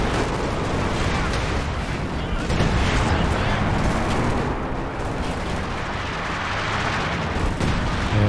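Two LEFH howitzers fire in a 3v3 Company of Heroes 2 battle, their heavy booms merging into a loud, dense, continuous wall of artillery and gunfire that rumbles on without pause.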